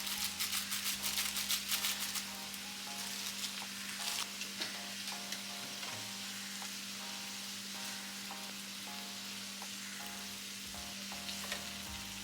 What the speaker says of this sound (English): all this tomato onion masalas are fried really well